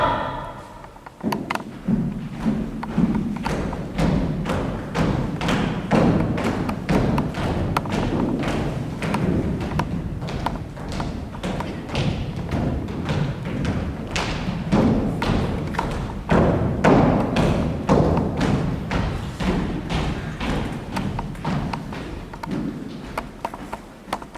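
Rifles thudding in a long run of dull wooden knocks and stamps as soldiers present arms during a stage play, loud and close, irregular and continuous with no talk.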